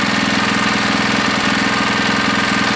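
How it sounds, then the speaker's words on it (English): A Tecumseh HS50 small engine runs steadily up close, a loud continuous rapid chugging with a knocking pulse and no pauses throughout. "That's a good running engine."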